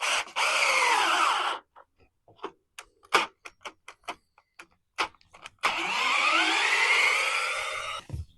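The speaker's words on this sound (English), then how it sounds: "That drill isn't good enough to do that" A cordless drill bores into timber for a sleeper pond build and struggles, giving two long whining motor runs whose pitch sags under load, separated by scattered clicks and knocks as the bit is repositioned.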